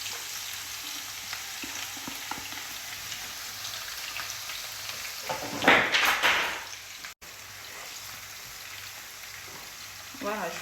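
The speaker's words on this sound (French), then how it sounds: "L'huile a déjà chauffé, on va rajouter les oignons." Onions dropped into hot oil in a pot for ndolé, giving a sudden loud crackling sizzle midway that settles into a steady quieter fry, with a faint hiss underneath throughout.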